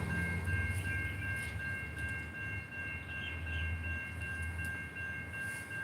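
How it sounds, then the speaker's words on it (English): A train approaches in the distance during a live outdoor street teaching in Garner, North Carolina, with a low rumble and faint steady high whine from the rails building gradually underneath. "Get this one in before the train come in here."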